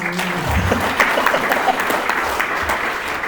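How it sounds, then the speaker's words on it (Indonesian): A school seminar audience of vocational students at SMK Negeri 1 Solok Selatan bursts into steady, dense applause that fills the room for a few seconds without pause. "Tepuk tangan dulu dong."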